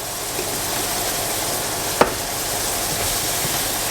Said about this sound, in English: Once our onions have cooked, we are going to add a couple of cloves of minced garlic.